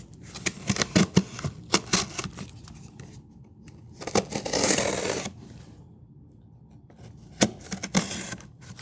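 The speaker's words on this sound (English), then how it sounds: "I'll grab this box cutter, cut these open" A box cutter slices open cardboard boxes in a series of short, scratchy rips and taps, close and fairly quiet, with one longer tearing stroke in the middle and brief pauses between cuts.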